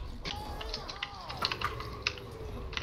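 Keys on a computer keyboard click sparsely during an Overwatch game, a few scattered, fairly quiet taps over a low hum, with faint game sounds and voices in the background.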